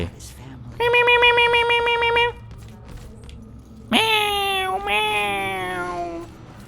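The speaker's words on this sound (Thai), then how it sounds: "แมวแมวแมวแมวแมวแมวแมว แป้งอยู่ไหนแป้ง" A cat in the video game Murdered: Soul Suspect lets out two loud, drawn-out meows, the first steady and the second starting sharply and falling away, over a low background hum.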